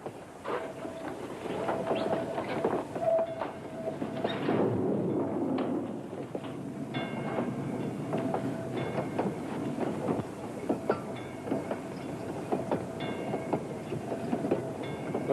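An old railroad train rolls and slows toward a stop near a town, giving a sustained rumble with rhythmic clickety-clack of wheels on rail joints and occasional metallic squeals, steady and fairly close.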